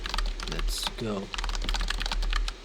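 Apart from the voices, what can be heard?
typing on a computer keyboard during a typing test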